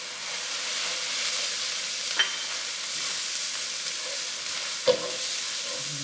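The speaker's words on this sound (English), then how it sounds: "Mix that around. And let that flour cook a little bit to get that raw taste out of it." Two tablespoons of flour cook in a pan for shrimp and cheesy grits, a steady soft sizzling hiss with two brief knocks of a stirring utensil and no talking.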